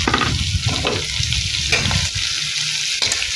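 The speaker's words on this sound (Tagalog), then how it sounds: "Halu-haluin lang natin." Carrot and bean sprouts for fresh lumpia are stirred in a hot pan, giving a steady close sizzle broken by the scrape and shuffle of the stirring, with no voices.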